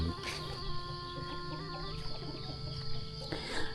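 Village chickens and ducks cluck and call in a rural morning yard, short scattered clucks over a steady background hum, moderately distant and fairly quiet.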